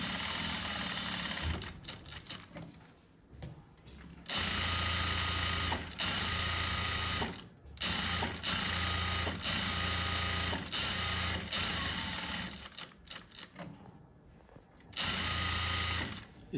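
A sewing machine stitches a seam along the edge of cloth in bursts, its motor whirring loudly for a few seconds at a time and then pausing between runs, with quiet gaps in between.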